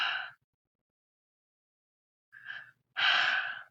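A voice imitating raspy, hitching breathing of someone about to cry, recalled from a night at an abandoned sanatorium: three breathy gasps, a short one, a pause, then a fainter catch and a longer shuddering breath.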